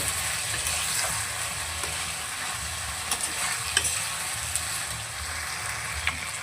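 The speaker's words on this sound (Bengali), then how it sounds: "ভালো করে মশলাটাকে কষিয়ে" Ginger, garlic and green chilli paste fries in a pan for a prawn dish, a steady close sizzle broken by scattered scraping and clicking stirring strokes, with no speech.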